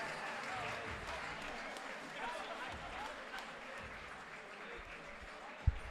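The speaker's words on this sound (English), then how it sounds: "A big round of applause to Tony." At a Final Rep world championship strength event, a distant crowd applauds and cheers in a steady, fairly faint wash, ending with a sharp knock.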